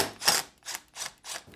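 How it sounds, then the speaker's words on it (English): Four short bursts of mechanical whirring and clicking, evenly spaced, like a power driver spinning out screws up close. "Use a T25 Torx bit to remove the 2 screws seated on top of the hinge."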